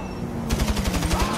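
AR-15 rifle fire in Grand Theft Auto, a rapid automatic burst of about ten evenly spaced close shots that starts after a brief pause over a low steady background hum.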